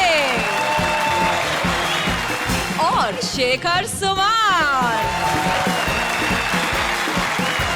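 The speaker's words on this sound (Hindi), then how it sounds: "प्लीज तालियों के साथ स्वागत कीजिए" Studio audience applause and cheering welcomes comedians onto a comedy show stage, dense and loud, with an announcer's voice speaking over the crowd.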